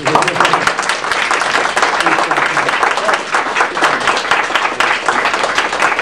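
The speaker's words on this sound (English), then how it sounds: "A round of applause for Dan Tennessee." A crowd claps loudly and continuously, dense applause filling the room with no gaps.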